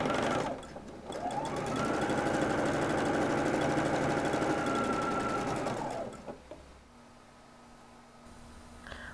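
A sewing machine stitches down the top fold of a shirt patch pocket, running in one steady, loud burst for about five seconds before stopping, with quieter handling noise after.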